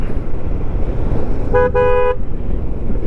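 A vehicle passing on a hill road while riding a motorbike from Kodaikanal to Poombarai, its horn sounding in two short toots midway over steady road and engine noise.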